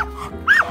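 A single short, high yip-like bark from a dog rings out close by, loud and brief, with a quiet room behind it.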